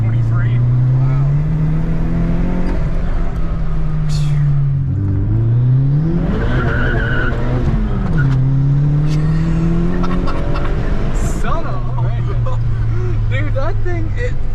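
Turbo-swapped Chevrolet Cobalt accelerating hard through the gears, loud engine revs rising and dropping with shifts, heard from inside the car while passengers talk excitedly over it.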